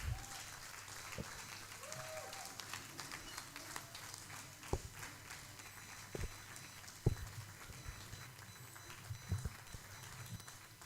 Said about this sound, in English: Please let's keep clapping until I find it.